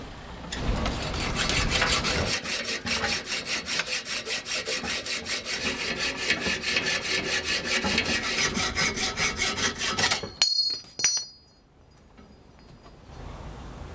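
Steady back-and-forth sawing through wood clamped in a vise for about ten seconds, rapid even strokes, close and loud, ending with a few clunks and quiet.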